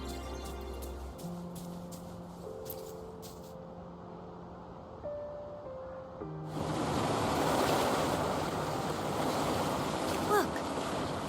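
Rushing water drains away in the Wuthering Waves game, a broad surging wash that swells in after a few soft musical tones and holds steady and loud, with no talking.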